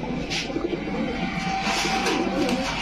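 Black and red Gorra pigeons, an active running pair, cooing in a steady low murmur close by, with faint chirps and background bustle mixed in.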